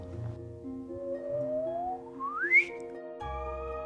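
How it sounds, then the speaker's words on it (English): Sonified gravitational-wave chirp from merging neutron stars: a whistle-like tone sweeps upward in pitch, faster and faster, to a sharp peak and then cuts off, set against soft sustained background tones. "Take neutron stars in the act of merging. They make this wonderful chirp."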